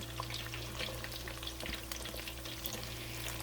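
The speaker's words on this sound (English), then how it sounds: "I'm going to finish frying these off" Oil bubbles and sizzles continuously as baby bella mushrooms deep fry, a dense crackling hiss with scattered pops, close by and uninterrupted by speech.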